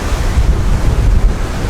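Strong wind and breaking waves at sea aboard a sailboat on a rough passage to New Zealand: a continuous, loud roar of gusting wind and surging water buffets the microphone, with no voices.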